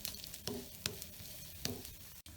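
An oats veggie chilla, a savoury pancake, roasts in a pan with a steady close sizzle broken by a few soft scraping clicks, and no one speaks.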